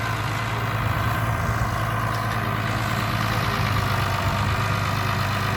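A farm tractor idles steadily during spring bean planting, its low diesel rumble loud and close, holding an even drone throughout with no voices over it.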